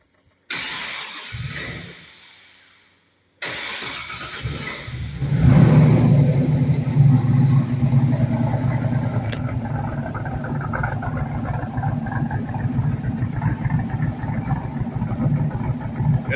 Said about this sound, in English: I took a video of how the car sounds with the cam that's in it that came in the crate engine